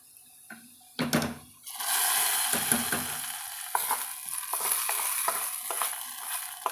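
Fried shallots and curry leaves tipped from a pan into a pot of drumstick sambar set off a loud, close hiss and sizzle, followed by a steady bubbling crackle with spoon scraping and stirring.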